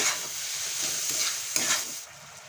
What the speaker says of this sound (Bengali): গুড় চিনি দিয়ে আমি মেরে চেড়ে নিচ্ছি